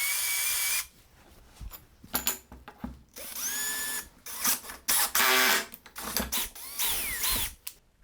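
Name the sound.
tool installing threaded rivet nuts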